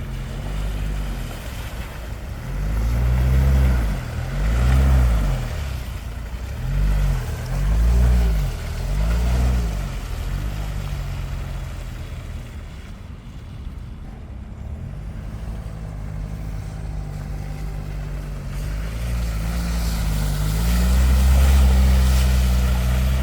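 Range Rover engine rumbles steadily while driving through muddy water, with deep surging sloshes of water and wind buffeting the microphone across a long pass.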